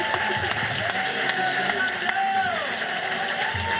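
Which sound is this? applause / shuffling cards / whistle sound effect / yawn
applause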